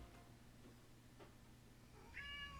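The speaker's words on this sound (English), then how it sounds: "my cat's screaming at me" A cat screaming, a short loud meow arriving at the end of a quiet stretch of faint background sound.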